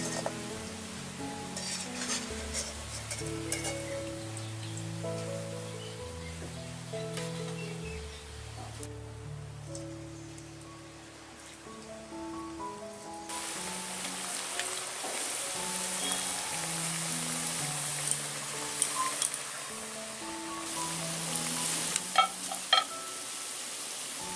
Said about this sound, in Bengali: বাকি কোপ্তাগুলো আমরা এভাবে ভেজে নেবো